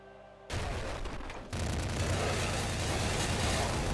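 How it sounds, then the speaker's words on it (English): In the video game Nuclear Throne, a gun fires several types of bullets at once: a dense burst of gunfire kicks in, then a second louder wave of rapid, overlapping shots and booms roars on without pause. "It fires like three different types of bullets at once."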